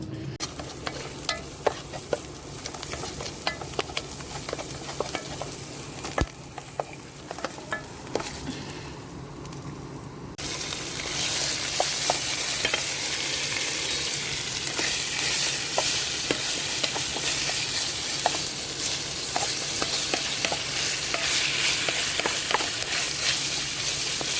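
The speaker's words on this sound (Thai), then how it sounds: "เราจะผัดแบบแห้งๆนะคะ" Shrimp fried rice being stir-fried dry in a pan outdoors on a rainy day, with continuous sizzling and frequent clicking, scraping strokes of a spatula that grow louder and denser partway through.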